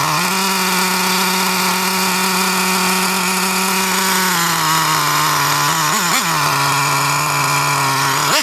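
A Traxxas T-Maxx nitro RC truck's TRX 3.3 engine runs steadily and loud, holding a constant buzzing drone; near the end the revs blip up and down briefly before settling back.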